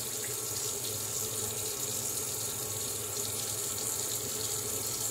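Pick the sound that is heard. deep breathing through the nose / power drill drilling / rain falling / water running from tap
water running from tap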